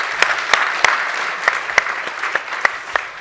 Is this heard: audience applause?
yes